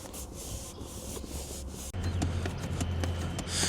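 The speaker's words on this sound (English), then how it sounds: "you can use a hot rag or a steamer and rub them out" A hot rag is rubbed back and forth over a creased car seat cover, producing soft, close scrubbing and brushing strokes that grow denser and louder after a short break midway, with no speech.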